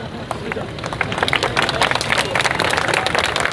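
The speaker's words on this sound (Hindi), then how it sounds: "तालियों पे पाबंदी नहीं लगा रखा है" An audience at a speech breaks into steady applause, a dense, ongoing patter of many hands that builds over a few seconds, with crowd voices mixed underneath.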